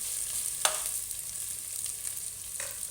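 Ginger fries in a pan with a steady, moderate sizzle and hiss, broken by a couple of brief, sharp spoon taps or stirs.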